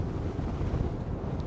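A Princess S72 motor yacht running at 38 knots, a steady low engine roar mixed with rushing wind and water noise, close and continuous with no talk.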